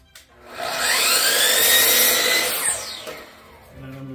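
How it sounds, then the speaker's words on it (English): Power saw cutting a chunk off a 1.5-inch by 1/4-inch wood trim board, a loud close whining buzz that rises, holds for about two seconds, then trails off as the cut finishes. "Just gonna cut a chunk off of it."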